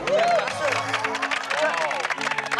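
Continuous crowd clapping with cheering and babble, lively and fairly close, with no clear pauses.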